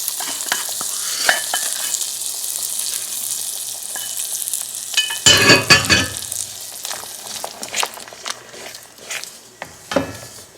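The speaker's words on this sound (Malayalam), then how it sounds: "നമ്മൾ വറുത്ത് വെച്ച കാഷ്യൂ തേങ്ങാക്കൊത്തും അതിലേക്ക് ആഡ്." Roasted cashews and coconut pieces are stirred in a hot cast iron pan while making ada pradhaman payasam. A continuous close sizzle runs throughout, and a louder burst of scraping and stirring comes midway, followed by intermittent clinks.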